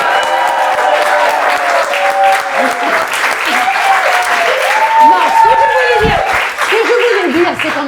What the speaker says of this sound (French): on va refaire une salve d'applaudissements, s'il vous plaît.